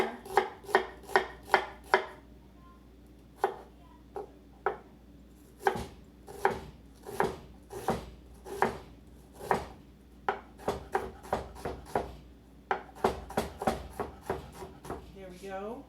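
Knife mincing sweet onion on a cutting board: bursts of quick, sharp rhythmic chops separated by short pauses, close and clear, with no talking.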